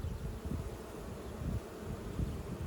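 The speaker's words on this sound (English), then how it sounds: "we've got another bee here." Honey bees buzz close by in a steady low drone, with a few louder swells as individual bees pass, heard without any talk.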